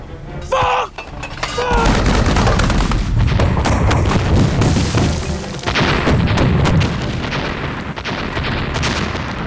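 Cannon fire in a Chinese period war drama: after a short pause, a loud, sustained barrage of booming blasts and crackling impacts rolls on continuously, close and overwhelming, with no clear talk over it.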